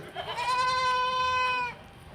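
A crossbreed goat kid gives one clear, loud bleat lasting just over a second, with a faint murmur of background noise before and after.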